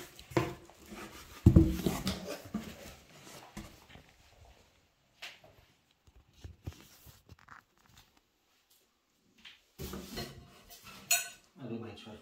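A Samsung GE83X microwave oven with grill is unboxed, with intermittent bursts of cardboard, plastic and packaging rustling and clattering, some sharp knocks, and quiet pauses between.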